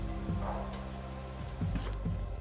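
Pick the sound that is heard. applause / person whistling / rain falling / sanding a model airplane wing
rain falling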